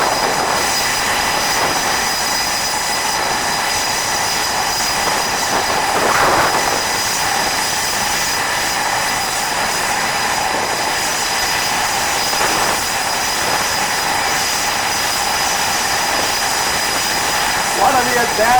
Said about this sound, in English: One of the tactical features of this machine is, if we didn't have the run-up from the FA-18s of the Blue Angels, it would be extremely quiet.